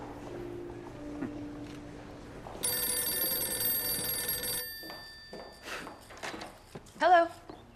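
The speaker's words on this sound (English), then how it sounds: "Bill Deneen's on the phone." An old-style telephone bell rings once in a sustained metallic burst in a quiet indoor room, followed by soft footsteps and a short voice.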